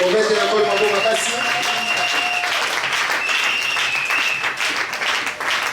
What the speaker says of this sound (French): Donnons-lui une acclamation.